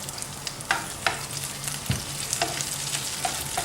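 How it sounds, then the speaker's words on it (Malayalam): Onions, dried red chillies, Kashmiri chillies and curry leaves sautéing in a pan, a soft steady sizzle broken by several sharp spoon scrapes and clinks against the pan. "അതിലേക്ക് ഡ്രൈഡ് റെഡ് ചില്ലി ഇട്ട് കശ്മീരി ചില്ലി ഇട്ട് പിന്നെ കറിവേപ്പില ഇട്ട് അതെല്ലാം ഒന്ന് സോട്ട് ചെയ്ത്"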